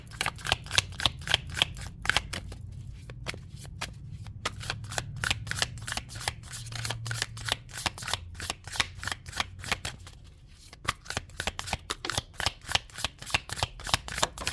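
Rapid riffling of an oracle card deck being shuffled over and over, crisp repeated bursts in a steady rhythm, close and clear with no talking.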